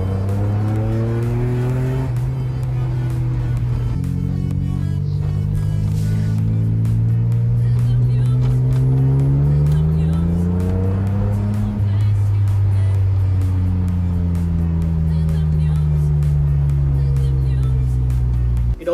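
A Mercedes C32 engine revs repeatedly through rising and falling pitches into high RPM, loud and close, with a steady mechanical drone throughout and a voice briefly audible underneath.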